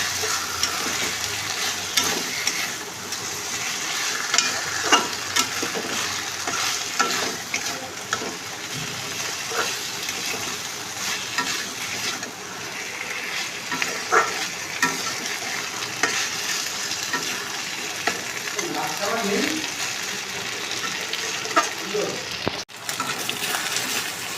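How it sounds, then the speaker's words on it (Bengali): Fried fish pieces stirred into spice paste in a pan, with continuous close sizzling and frying, scraping stir strokes, and brief faint voice passages underneath; a short drop near the end. "এই যে মাছগুলো ভেজে রেখেছি এগুলো এই মশলার মধ্যে দিয়ে দেবো"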